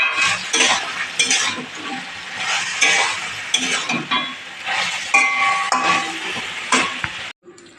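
Pumpkin stem curry with sugar stirred in a pan, a spatula scraping and clinking against the metal over a steady sizzle, close and continuous with no talking.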